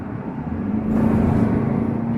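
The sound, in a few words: Kia Carnival minivan accelerating hard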